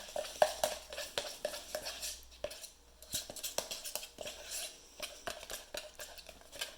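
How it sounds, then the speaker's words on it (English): Homemade slime is stirred in a bowl, glue and sparkles mixed with steady, rhythmic scraping and clinking strokes. The strokes are close and continuous throughout, with no voices. "Make sure you stir right to the bottom. Mix all that glue and that together."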